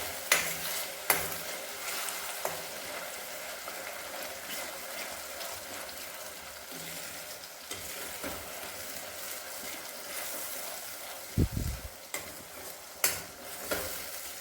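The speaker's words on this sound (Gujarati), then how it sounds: "જે આપણે લસણ ડુંગળીની પેસ્ટ તૈયાર કરી હતી એ એડ કરવાની છે અને ગ્રેવીને છે સાંતળી લેવાની છે" Garlic-onion paste gravy sautéing in a pan for lauki kofta curry, a steady low sizzle with scattered scraping stirs and a few louder utensil knocks, no voices.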